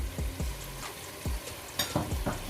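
Curry leaves and a spoonful of cumin sizzle in hot oil for chicken biryani, a steady frying hiss punctuated by several sharp crackles and pops, close and fairly loud.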